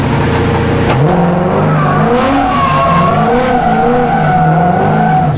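A car doing donuts with the engine revving hard and the tires skidding. Loud, continuous engine roar rises and falls in pitch under steady tire squeal, close up throughout.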